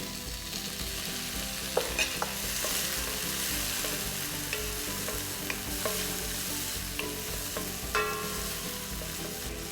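Chopped tomato and green chilli fry with a steady close sizzle in a pan, broken by scattered scrapes and taps as a spoon stirs them, with no talking.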